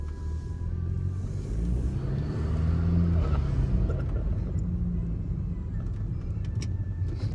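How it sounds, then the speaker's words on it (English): A BMW F30 car drives along with a steady, continuous low engine rumble and road noise that swells slightly mid-way, close and fairly loud, with no talk over it. "that's his first time driving my Beamer"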